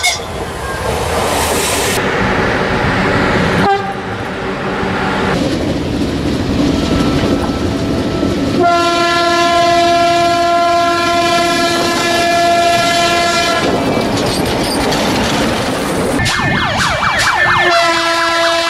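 Train horns blare loudly in several blasts, including one long sustained tonal blast in the middle, over the rumble of a passing train, with more horn calls near the end and no voices.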